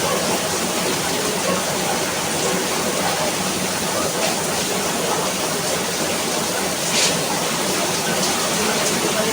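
Dense, continuous rush of heavy rain, loud and even throughout, like a downpour drumming close by without letup.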